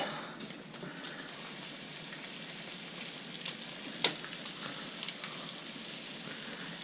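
Freshly caught fish frying in a pan, a soft, steady crackling sizzle with occasional sharper pops, close but fairly quiet, no voices.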